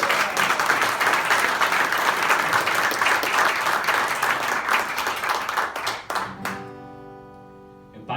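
A live cabaret audience in a small Munich venue breaks into loud, sustained applause for a singer-songwriter. The dense clapping runs steadily for several seconds, then thins to a few scattered claps, and a sustained tone rises as it fades.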